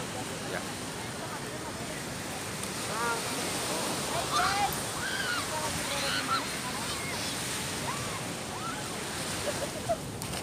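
Surf washing in at Sayang Heulang beach in Garut, a steady broadband roar of breaking waves with wind buffeting the microphone, while people talk over it during a group outing.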